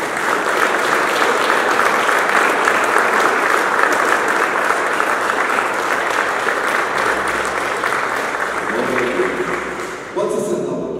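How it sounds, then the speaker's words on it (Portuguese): A church congregation applauds during a Sunday worship service, sustained dense clapping from many hands that stays steady and loud for about ten seconds before thinning out, with faint voices mixed underneath. "Uma salva de palmas para Jesus."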